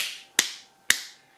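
Two sharp, close hand claps about half a second apart, each ringing briefly in a quiet room, made to sync separate audio recordings.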